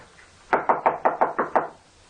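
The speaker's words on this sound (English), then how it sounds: "He knocked." Seven firm knocks rap on a door in a horror audio drama, evenly spaced and close, loud and clear against a quiet background with no voices.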